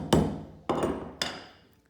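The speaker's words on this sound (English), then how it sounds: "I'm going to take a little flat shoemaker's tack, stick that in there, and just hammer it down" A hammer drives a flat shoemaker's tack into wet-moulded veg-tan leather stretched over a shoe last. There are three sharp, close strikes, each ringing out briefly before the next, with no talk.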